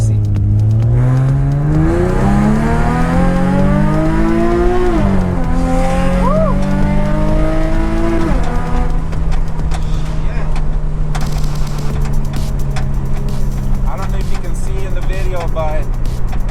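An Infiniti G37 race car with its rear end sliding loose; the engine revs loud and close, its pitch climbing and dipping, with tire squeal and a skid through the run.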